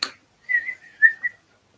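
A person whistles a short, wavering tune of a few clear notes, alone against near silence after a brief rustle.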